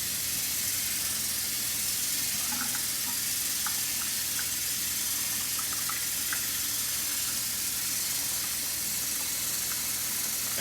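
Rice being rinsed by hand in a bowl of water, a steady wash of swishing, splashing water noise with small scattered ticks of grains and droplets, close and continuous throughout.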